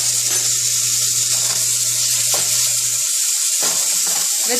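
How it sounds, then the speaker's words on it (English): Minced garlic and whole garam masala sizzling in hot oil for a Punjabi-style veg biryani, a loud, bright, constant hiss up close with faint scraping, no speech. "I am putting 1 tablespoon of minced garlic"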